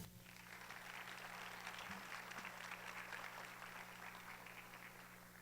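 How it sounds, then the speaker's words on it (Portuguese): Audience applause at an anti-corruption event, a faint, distant, steady patter of clapping over a low electrical hum, continuing evenly throughout. "Uma salva de palmas."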